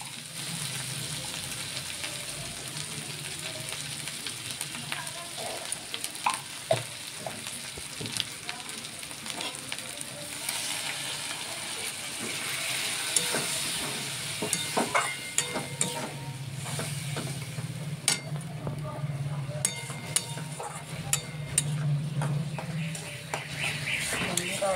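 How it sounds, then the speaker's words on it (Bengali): Ground spices including coriander and turmeric sizzle and fry in a pan while being stirred for a banana-flower curry, a steady crackling hiss with scattered clicks of the spoon, with voices talking throughout. "দেখো বন্ধুরা, মশলাটা কষা হচ্ছে।"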